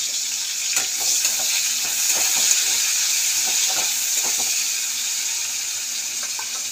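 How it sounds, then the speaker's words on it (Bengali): Onions frying in oil in a pan with dried red chili and black cumin, a steady close sizzle broken by intermittent scraping stirs of a spatula, with no talking. "এই যে পেঁয়াজটা ভাজা ভাজা হয়ে গেছে"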